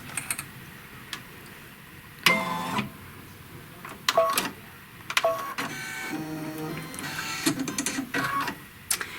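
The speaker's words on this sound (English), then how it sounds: "It stitches off the words and the little circle part first" An embroidery machine stitches a design of words and a small circle, with bursts of rapid mechanical needle chatter and whirring that start and stop, fairly close and loud, and no talking.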